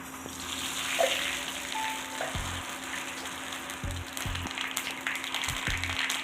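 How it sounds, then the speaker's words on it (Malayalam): Mustard seeds sizzle and crackle steadily in hot coconut oil, a continuous hiss dotted with small pops and a few faint thumps of cookware. "വെളിച്ചെണ്ണ ഒഴിച്ചു കൊടുക്കാം കടുക് ഇട്ട് കൊടുക്കണം"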